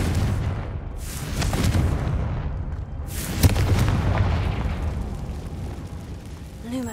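Confringo blasting spell going off in Hogwarts Legacy, a loud booming explosion with a sharp burst near the middle over a rumbling game soundscape, with spoken voice faintly present.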